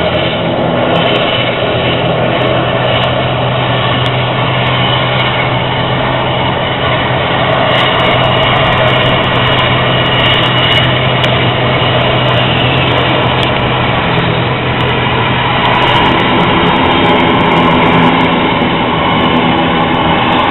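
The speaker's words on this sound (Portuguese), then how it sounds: "cada motor do avião ligado" Loud, constant airliner engine drone heard from inside the cabin on an Azul Linhas Aéreas flight, a steady broadband roar with a low hum and no break.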